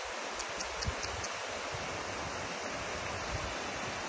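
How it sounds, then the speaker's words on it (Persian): Salt water rushing out of a mountain as a briny stream and salt waterfall gives a steady, dense hiss that holds even throughout, with no voices. "این رودخونه ای از نمک، آب شوری که از اینجا میاد"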